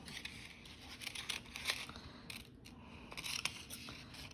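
Scissors snipping through purple paper to cut a free-form shape for an abstract paper sculpture, quiet close-up crisp cuts and paper rustle in a steady, unhurried rhythm.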